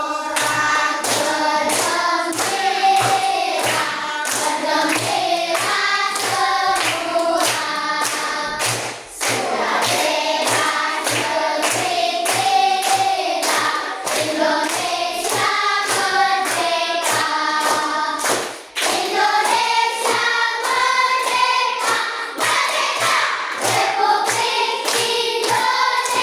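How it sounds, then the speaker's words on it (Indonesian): Children clapping hands in steady rhythm while singing the song Sorak-Sorak Bergembira in a classroom, their voices and claps loud and continuous throughout with only brief dips. "sama-sama sambil tepuk tangannya"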